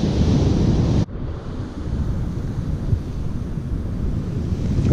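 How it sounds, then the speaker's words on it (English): Rough ocean surf breaks heavily on a beach in a steady roar, with wind buffeting the microphone and a sharp gust cutting out early on. "Big rough ocean out here."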